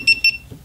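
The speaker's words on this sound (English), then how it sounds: "You hear it beep, and now we got the Hero 4 Silver working" A GoPro Hero 4 Silver camera beeps as it powers up, giving two short, bright electronic chirps close together, loud and near, with nothing else sounding.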